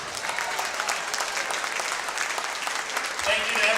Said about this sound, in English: Let's give these teams a big round of applause.